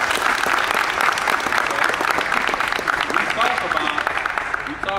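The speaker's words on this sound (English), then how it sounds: "Round of applause for that." A room of high school football players at a South Houston team meeting breaks into loud, sustained applause, many hands clapping in a dense wall of sound with voices cheering through it.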